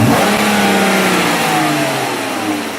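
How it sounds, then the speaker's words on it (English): A Dodge Charger engine revving after an air filter replacement, a loud close roar that rises and then slowly eases off across a few seconds, with no talking. "Go ahead and rev it."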